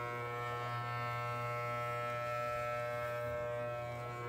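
Electric clippers shave a cat's fur, giving a steady, close mechanical buzz with a strong hum that holds unbroken and loud from start to finish.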